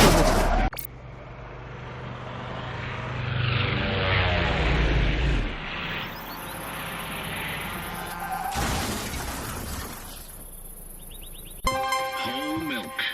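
A plane makes an emergency landing on the Autobahn in Autobahn Police Simulator 2: a loud roaring rush swells and fades, then broken noisy bursts follow, with a voice heard briefly.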